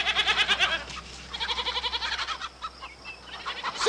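Goats bleat nearby on a farm in a 1979 film scene, rapid wavering bleats in loud rhythmic bursts, mixed with clucking chickens and quieter animal calls.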